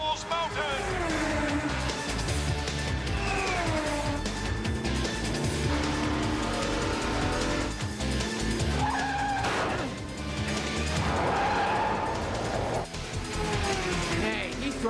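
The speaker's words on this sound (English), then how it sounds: "The Mach 5 and the Velocity 5 are wheel to wheel" Cartoon race cars, the Mach 5 and Velocity 5, racing wheel to wheel toward Devil's Mountain: continuous engine roar with squealing tires and skids, dense and loud, mixed with music and voices.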